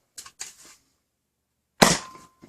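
A Nerf N-Series PinPoint blaster fires a single dart through a chronograph, giving one sharp, loud snap with a short tail, after a few quiet clicks and handling noises.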